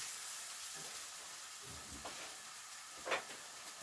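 Onions caramelising in a pan over full gas give a steady, soft sizzle and hiss, with a few faint stirring scrapes and a brief louder crackle near the end, and no talking.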